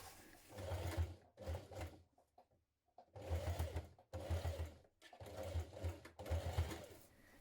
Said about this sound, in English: Now you're going to stitch these corner parts like this.